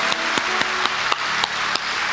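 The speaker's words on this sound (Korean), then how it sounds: "우리 박수로 한번 환영하겠습니다" A church congregation claps during a Sunday service. Distinct sharp claps land in a loose, roughly even rhythm, and faint musical tones sound underneath.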